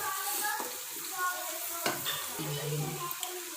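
Chicken with salt and garam masala frying in a pot for Asto chicken biryani, a steady sizzle under scraping stir strokes, with a few brief clinks near the end.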